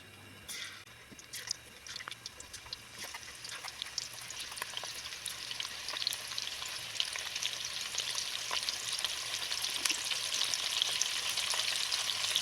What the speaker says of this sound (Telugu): నూనె బాగా వేడెక్కిందండి ఇప్పుడు ఒక్కొక్కటిగా ప్రాన్స్ వేసుకుందామండి విడివిడిగా వేసుకొని వేపుకోవాలండి